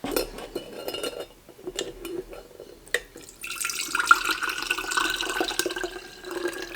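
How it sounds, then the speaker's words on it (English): Homemade fire cider being strained into a glass quart jar: a steady trickle and splash of liquid with light glassy clinks, starting softly and growing fuller midway. "I will go ahead and get this strained into a quart jar"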